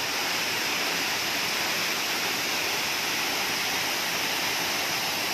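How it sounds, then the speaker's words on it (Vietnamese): Fast-flowing water pours down Háng Tề Chơ waterfall in Vietnam, a loud continuous roar of rushing water that fills the whole scene with no voices. "thác nước rất là chảy rất là xiết luôn này"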